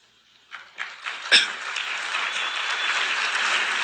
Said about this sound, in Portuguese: Nessa aí foram uns 15 segundos de aplauso.